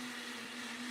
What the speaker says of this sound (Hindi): मिक्सी चल रहा है।